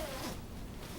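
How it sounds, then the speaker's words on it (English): A zipper runs briefly along a down vest as a jacket is zipped into its side, a short close rasp over a constant background rush. "Zip that into the side."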